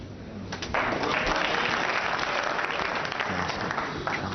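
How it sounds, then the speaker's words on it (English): A snooker crowd applauds Ronnie O'Sullivan during a 147 maximum break, with dense, sustained clapping that rises quickly and holds steady throughout. "Crowd are buzzing now."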